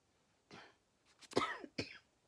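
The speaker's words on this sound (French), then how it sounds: "je vais tousser" A person with bronchitis coughs several times in quick succession, close and fairly loud against near silence.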